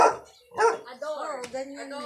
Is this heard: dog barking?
yes